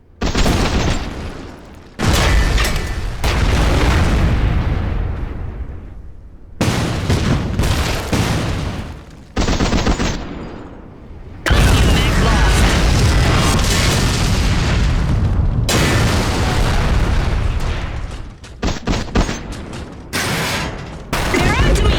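Gunfire and explosions in the Iron Harvest real-time strategy game, infantry and mech combat with dense bursts of loud booming blasts and rattling fire, continuous and close.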